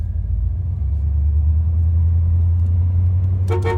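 A 1984 Monte Carlo SS engine idles with a low steady rumble, then a short horn honk sounds near the end.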